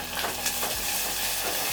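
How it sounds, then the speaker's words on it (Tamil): Onions sizzling in oil in a pan, a steady close frying hiss with faint crackles, no voices. "வெங்காயம் நல்லா வதங்கணும்."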